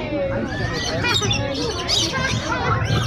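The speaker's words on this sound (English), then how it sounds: "Look at the birds." Birds at a zoo chirp and squawk continuously up close, mixed with the babble of visitors talking nearby.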